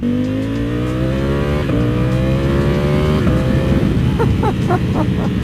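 Carbon-bodied V4 SP superbike, a 195-horsepower, 410-pound machine, ridden on a cold, damp road; its engine note climbs steadily in pitch, shifts and climbs again, loud and close with wind rush throughout.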